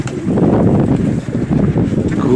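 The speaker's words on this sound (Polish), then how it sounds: "wieje wiatr, zimno" Strong wind buffeting the microphone, a loud continuous low rumble with gusty fluctuations throughout.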